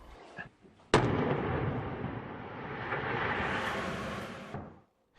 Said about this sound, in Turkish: Ele geçirilen tüple güçlendirilmiş 2 tonluk patlayıcı bomba uzmanları tarafından kontrollü olarak imha edildi